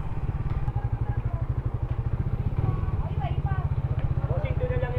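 A Suzuki Raider 150 Fi motorcycle engine thrums close by with a steady, rapid low pulse, while voices murmur faintly in the background.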